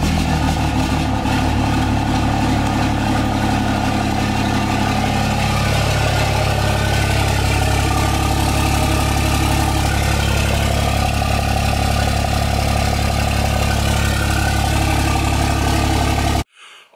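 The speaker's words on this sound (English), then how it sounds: "we did a little cold start on the truck" Diesel truck engine idling steadily after a cold start, a loud, continuous low rumble with a slight change in tone partway through, running close by and alone before cutting off abruptly at the very end.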